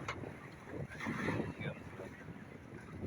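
Gusty cold winter wind buffets the microphone in rough, uneven rumbles, swelling and easing over a few seconds with no voices.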